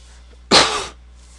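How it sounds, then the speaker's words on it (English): A single sharp burst from a person, a cough or sneeze-like explosive exhale lasting about half a second, close and loud against a quiet room background. "sorry for the coughing and stuff"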